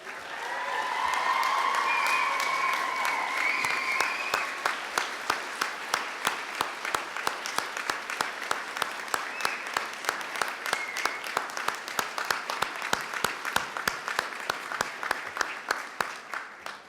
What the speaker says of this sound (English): please stand and get a roaring applause from your graduating class